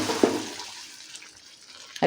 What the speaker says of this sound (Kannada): ಅದಕ್ಕೆ ಕುದ್ದಿರೋ ನೀರು ಹಾಕ್ಕೊಳ್ತೀನಿ.